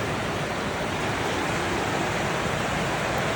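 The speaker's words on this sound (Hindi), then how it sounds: "बहुत ज़्यादा बारिश हुई सऊदी अरब में।" Very heavy rain pours down in Saudi Arabia with water flowing, making a steady, dense, unbroken roar close by, with no voices.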